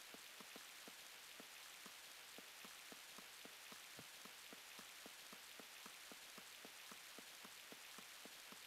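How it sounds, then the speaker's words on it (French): Rain in the Spectrobes DS game falls as a steady hiss with regular, rhythmic droplet ticks repeating evenly throughout, faint and without music or voices. "Ah oui, en effet, il pleut."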